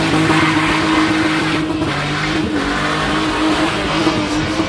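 Drift car spinning and revving hard at a spinning show, engine screaming loud and close in sustained bursts with tyre noise and a busy crowd roar underneath, no pause throughout.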